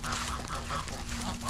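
Geese at a farm campsite give repeated honking calls over a steady low hum, close and fairly loud through a short stretch.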